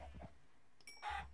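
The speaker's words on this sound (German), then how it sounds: "Hühnchen." Chicken clucking in the video game Minecraft, a few short clucks with a brief squawky call near the end, close and fairly clear over a quiet background.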